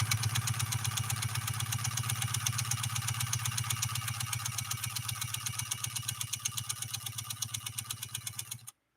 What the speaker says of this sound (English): listen to this machine run. I love the way it runs. It sounds like a locomotive